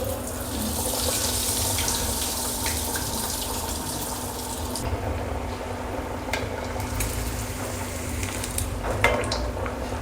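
Bottle gourd cutlets drop into hot oil and fry with a steady, close hissing sizzle that holds throughout, with a few brief crackles and clinks.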